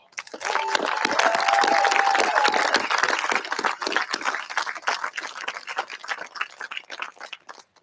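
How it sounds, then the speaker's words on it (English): Applause from the audience at a USMAPS oath ceremony for the class of 2021, the Vanguards, rises to a full roar with scattered cheers, then thins into sparser claps toward the end. "Ladies and gentlemen, let's give the USMAPS class of 2021, the Vanguards, a round of applause."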